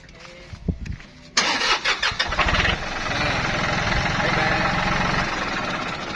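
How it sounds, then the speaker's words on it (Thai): Nearby, a Japanese tractor's direct-injection diesel engine cranks with a few sputtering attempts, catches, and settles into a loud, steady, rhythmic idle. "เอามาลองสตาร์ทเครื่องดูกัน"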